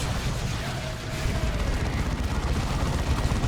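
A grenade blast and bursts of gunfire in the strategy game Dawn of War 2 rumble in a dense, continuous battle din of booms and rattling shots, loud and close.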